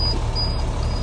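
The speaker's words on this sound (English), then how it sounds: "Excuse the beeping." Steady electronic beeping from an air-ride truck waiting for its air brakes to release, a high tone pulsing over a constant low engine rumble, close by and with no talking.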